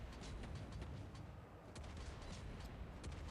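Naval gunfire from a French cruiser Colbert in a warship video game, a dense rumbling barrage of repeated booms and cracks layered over continuous low battle noise, steady and fairly loud throughout.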